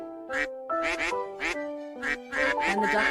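A flock of ducks quacking in loud, overlapping bursts, several calls close together with brief gaps between volleys.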